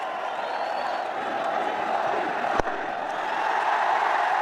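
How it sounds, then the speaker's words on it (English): Large cricket stadium crowd roaring and cheering after Rohit Sharma hits a six, a broad sustained wash of noise with a sharp clap or crack near the middle, swelling slightly toward the end. "Big cheer, Yulia. It deserves every bit of it."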